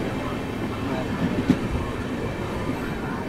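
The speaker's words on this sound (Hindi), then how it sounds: "फाइनली अपनी ट्रेन यहाँ रुक चुकी है" A train on the Visakhapatnam–Araku line with a Vistadome glass coach stands at a station, giving a steady low rumble and hum with a soft metallic clank near the middle.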